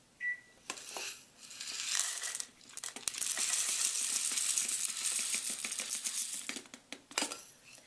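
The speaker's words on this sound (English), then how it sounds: "you take your rice and you fill your jar" Dry rice grains pour steadily into a jar, a dense rattling hiss that builds after a few light taps and runs for several seconds before trailing off, close and alone.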